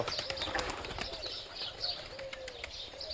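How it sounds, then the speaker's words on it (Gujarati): Domestic pigeons on a farm, with soft fluttering wingbeats and faint cooing heard nearby against a steady outdoor background; scattered bird chirps and rustles come and go. "કે સુંદર મજાના હે કબૂતર, મસ્ત"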